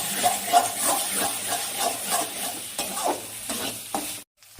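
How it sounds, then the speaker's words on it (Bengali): Masala frying with cashews and raisins for katla fish curry, stirred with rhythmic scraping strokes over a steady close sizzle, ending abruptly. "এখন মশলাটা ভালো করে কষিয়ে নেব আবারও"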